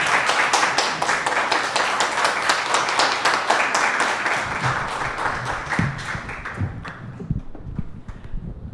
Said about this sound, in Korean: 박수 쳐주시면 아마 올라오실 거예요.